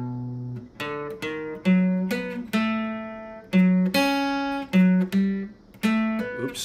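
A picked guitar plays a short practice melody of single notes at a slow, steady pace, each note clear and close, with brief gaps between phrases and no talking.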